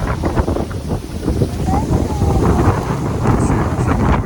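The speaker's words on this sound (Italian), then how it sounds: "qui più avanti si combattono un po' col vento" Strong gusting wind buffets the microphone on the icy, freezing slopes of Monte Cornetto (Sengio Alto), a loud continuous roar with surging low rumble throughout and no speech.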